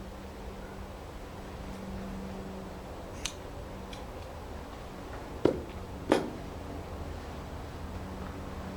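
Scissors snipping through doubled braiding string held against a horse's mane, two sharp close snips a moment apart over a quiet background hum.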